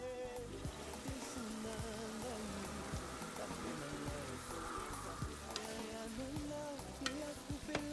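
Caterpillars frying in a pot as chili and a little water go in, producing a soft, steady crackling sizzle with scattered pops and stirring clicks, fairly quiet and without talk.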